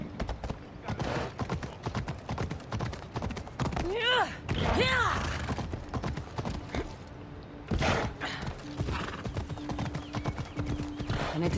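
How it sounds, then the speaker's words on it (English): Hooves clip-clop in a quick, steady rhythm on hard ground, with a horse whinnying twice partway through and faint voices underneath, in the video game Assassin's Creed Odyssey. "I need to take this horse either to Adonis or to the stable boy"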